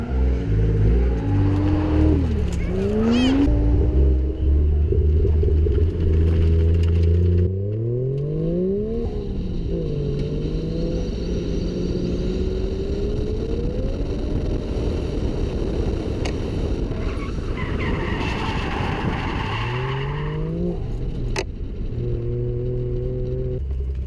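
Drift car engine revving hard with a slipping clutch during drift practice, loud and close, with repeated rising and falling revs, sustained high-rpm wails and short drops between pulls.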